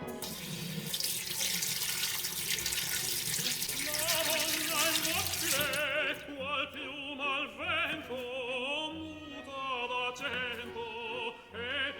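Garlic cloves rinsed under a kitchen tap, a steady hiss of running water for about six seconds before it cuts off, then quiet music with faint drips and clinks.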